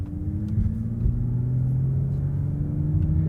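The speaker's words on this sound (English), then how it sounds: "So we're in first gear, gonna go ahead and head out" A manual 2023 Toyota Supra pulling away in first gear, its engine a steady low rumble heard from inside the cabin as it gathers a little speed, with no one talking.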